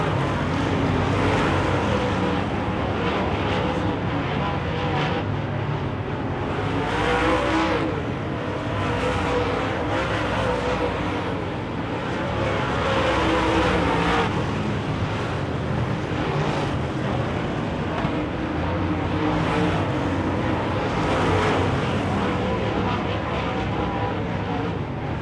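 Wissota late model race cars roar around the track during a heat or feature race, a dense, continuous engine drone that swells and fades as packs of cars sweep past.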